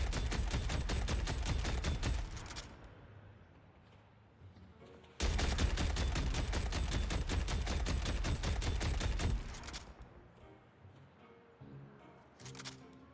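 Vindicta's gun in the Deadlock hero shooter fires in rapid, evenly spaced bursts, loud and close, with a brief pause near the two-second mark before the steady fire resumes and then tails off into scattered quieter shots.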